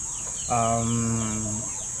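A chicken gives a drawn-out harmonic call lasting about a second, close and fairly loud over steady high-pitched background hiss, on a farm where chickens are being fed up to build body mass.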